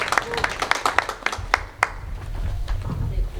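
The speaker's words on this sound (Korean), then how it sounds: "우리 이민경 집사님 우리 박수로 환영하겠습니다" A Korean church congregation claps in welcome, a burst of distinct hand claps for about two seconds that quickly fades, followed by low murmuring voices and room noise.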